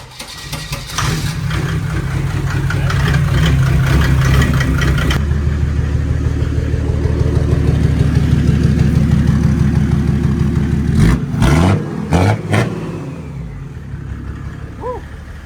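A Mercedes-Benz S-Class diesel engine with a large turbo upgrade idles with a deep rumble, then revs up and holds a loud, throaty drone before easing off, with brief voices near the end.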